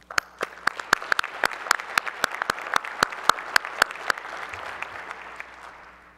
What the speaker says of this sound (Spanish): quería pedir un aplauso para los miembros salientes y agradecerles por todo el trabajo y el esfuerzo que le ponen a esto